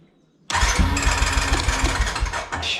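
A small engine cranks and catches using a portable jump starter, bursting to life abruptly after near silence and settling into a loud, steady, close running rumble.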